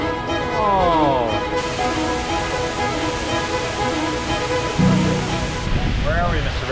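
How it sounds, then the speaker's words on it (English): A giant waterfall on the Kauai coast roars as a steady, broad rush of falling water, with people exclaiming over the constant wash. "We are on the Kauai coast at a giant waterfall, taking it in."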